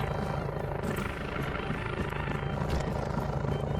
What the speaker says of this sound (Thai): เหมือนเฮลิคอปเตอร์มาหรือเปล่าตรงนั้นอ่ะ